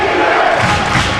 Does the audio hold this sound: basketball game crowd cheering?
yes